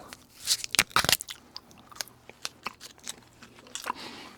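Gum is chewed close to the microphone for ASMR, giving soft, wet mouth clicks and smacks in a quick, uneven rhythm against a quiet background.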